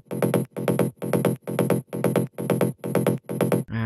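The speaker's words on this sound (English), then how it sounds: "And then I added a psy bass loop," Psy bass loop in a future rave electronic track, eight punchy, evenly spaced bass pulses in a steady driving rhythm, loud and alone, ending with a brief different tone.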